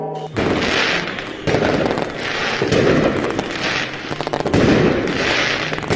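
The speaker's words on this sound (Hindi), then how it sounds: "बच्चों ने खूब पटाखे फोड़े" Diwali firecrackers burst in rapid, overlapping cracks and pops, loud and continuous, with bigger bangs every second or so in a dense festive barrage.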